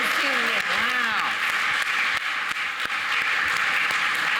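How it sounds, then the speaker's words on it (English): Audience applause at the Games for Change awards ceremony for the debut game Consume Me, a steady wash of clapping filling the hall throughout, with a voice speaking over it early on. "Let's hear another round of applause for Hexecutable's debut game, Consume Me."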